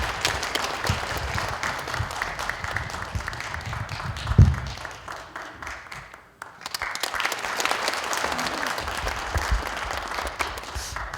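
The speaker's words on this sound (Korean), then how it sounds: "여러분 큰 박수 부탁드리겠습니다." An audience at a lawmaker's constituent report meeting applauds a bestselling novelist called up to speak, with steady clapping that dips briefly, then swells again and carries on.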